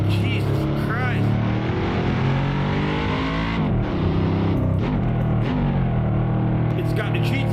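Pagani Huayra BC hypercar engine in the Assetto Corsa racing game, a loud, steady, distorted high-revving drone with shifting pitch sweeps throughout, heard under a voice talking.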